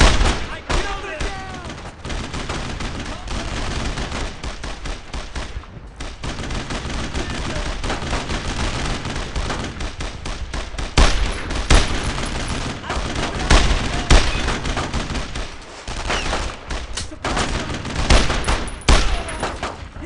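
Dense WWII gunfire in the video game Brothers in Arms: Road to Hill 30: rifle and machine-gun bursts crack continuously and loudly, with heavier booms and faint shouted voices mixed in throughout.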